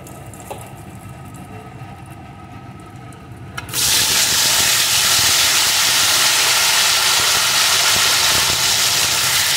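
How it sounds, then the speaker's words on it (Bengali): Gathi kochu (taro stems) drop into hot oil already seasoned with fried panch phoron, bursting into a loud, steady, close frying sizzle that continues unbroken after a quieter start. "এখন গাঠি কচুটা প্রথমে একটু ভেজে নেব।"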